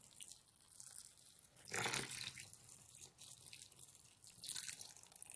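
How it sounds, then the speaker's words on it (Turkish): Hot boiling water poured over fresh grape leaves, a soft steady splashing stream that swells into a louder gush partway through, then settles back to a quieter trickle. "Yapraklarımızın üzerini kapatıncaya kadar sıcak suyu döküyorum."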